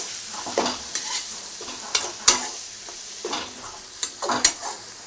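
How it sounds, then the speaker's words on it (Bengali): Coriander and cumin powder sautéed in a pan with salt, soft sizzling under repeated sharp spatula scrapes and taps in an uneven rhythm. "দিয়ে এবার ভালো করে এটা কষিয়ে নেব"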